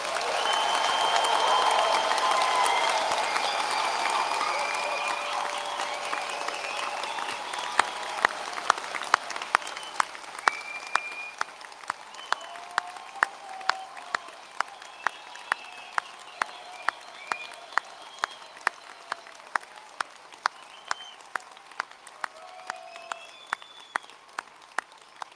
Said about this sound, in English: let's raise the roof with a final round of applause to congratulate our